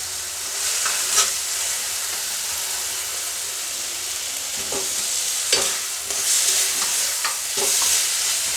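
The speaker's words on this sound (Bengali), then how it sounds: "এখন আমি আলুগুলো দিয়ে দেবো।" Potatoes sizzle loudly after being added to a spice paste that has been fried until the oil separates, for a fish and greens dish, with steady hissing and occasional clacks from a stirring utensil.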